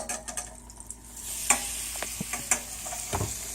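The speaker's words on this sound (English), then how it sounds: "We want that butter to melt. I'm going to throw our shrimp in." Shrimp dropped into melted butter in a pan, a light sizzle broken by several sharp clinks and scrapes of a utensil stirring, close and fairly quiet with no speech.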